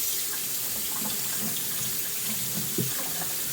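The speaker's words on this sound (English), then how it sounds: "I could just run this underneath the hot water under the tap." Hot water runs steadily from a kitchen tap, a constant close, loud hiss of flowing water with a brief bump near the end.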